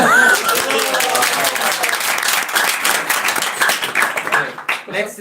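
A crowd at a devotional gathering applauds, a dense wash of clapping that thins out and scatters toward the end, with a voice faintly present underneath.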